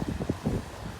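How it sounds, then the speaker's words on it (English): Wind buffets a microphone on a beach by the ocean, a low rumbling gusty roar that swells and dips unevenly throughout, with no clear voice over it. "It's a little windy. Hopefully you can hear me."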